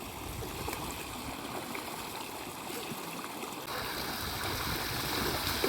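Water from two running motor pumps pours and splashes steadily in a village field, a continuous rushing stream close by that grows slightly louder partway through, with no talking.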